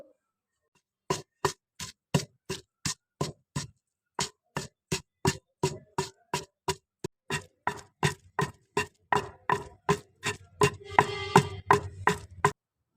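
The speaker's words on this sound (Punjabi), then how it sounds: "ਹੁਣ ਆਪਾਂ ਕੁੰਡੀ ਸੋਟੇ ਦੇ ਵਿੱਚ ਨੂਨ ਜੀਰਾ ਅਤੇ ਹਰੀਆਂ ਮਿਰਚਾਂ ਨੂੰ ਚੰਗੀ ਤਰ੍ਹਾਂ ਪੀਸ ਲਵਾਂਗੇ" A pestle pounds salt, cumin and green chilies in a mortar, giving steady evenly spaced thuds, about two per second, close and fairly quiet, with a few softer grinding scrapes near the end.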